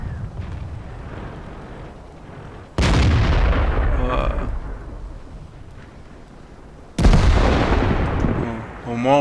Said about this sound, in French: Tire à la HE.